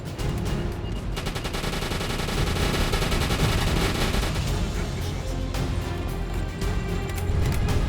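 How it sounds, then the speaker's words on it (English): Anti-aircraft machine guns on a U-boat port in the video game Uboat, firing in long, loud, rapid bursts with overlapping heavy gunfire and booms, nearly continuous and close. "I do have 2 more AA machine guns manned by crew members to cover other angles"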